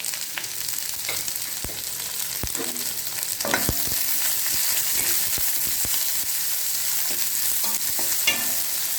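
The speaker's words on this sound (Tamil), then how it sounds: "வெங்காயம் நல்லா வதங்கணும்" Onions sauté in oil with mustard seeds and curry leaves for a ladies finger poriyal, giving a steady close sizzle broken by occasional stirring scrapes of a spoon against the pan, with no talking.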